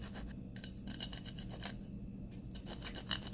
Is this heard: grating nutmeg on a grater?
yes